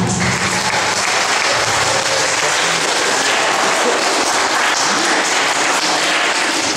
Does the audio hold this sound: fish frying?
no